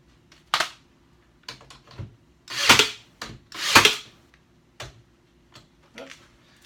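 A nail gun drives nails into the wood of a patio lounger: a series of sharp, separate bangs at irregular intervals, two of them louder, with quiet gaps between shots.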